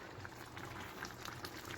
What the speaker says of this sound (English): I got my water boiling so I can put my lasagna noodles on